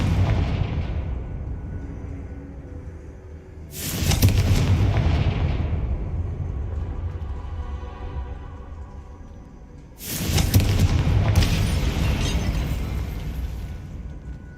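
Fire spell explosions from Hogwarts Legacy: two loud booming blasts, each followed by a long rumbling decay, spaced several seconds apart.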